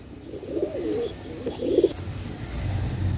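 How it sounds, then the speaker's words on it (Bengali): A vocal pigeon, a Pakistani breed, coos in several soft, throaty, rolling phrases close by, with faint background noise between calls. "এটা হচ্ছে ভোসাল কবুতর"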